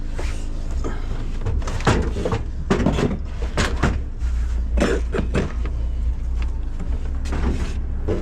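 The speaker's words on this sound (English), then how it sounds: "Drawer that's now all the way over here." A metal drawer is dragged and shifted around during dumpster diving, giving a string of close clunks, scrapes and knocks at irregular intervals over a rumbling outdoor background.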